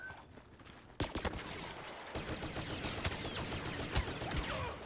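Blaster fire in the Star Wars Battlefront video game, with rapid bursts of sharp shots crackling through a busy battle mix, continuous and fairly loud after a brief quieter start.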